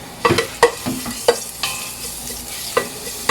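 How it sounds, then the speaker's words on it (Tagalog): Grated onion sautés in a pan for spinach dip, a low sizzle punctuated by several sharp scraping and tapping strokes of a utensil stirring against the pan, close by. "we're going to quickly saute yung ginrate natin na onion"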